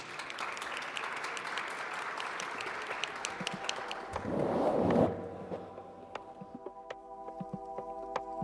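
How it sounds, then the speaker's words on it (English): An audience applauds panelists at an innovation conference, dense steady clapping that swells briefly, then thins to a few scattered claps over a low hum. "a round of applause to our esteemed panelists"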